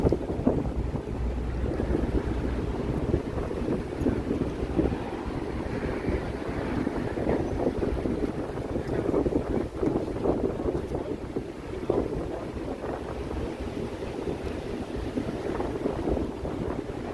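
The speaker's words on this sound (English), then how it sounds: "Holy wind." Strong wind buffets the microphone outdoors on a Saturday evening in Toronto west of downtown, a loud steady broadband roar with gusty swells throughout, no voices.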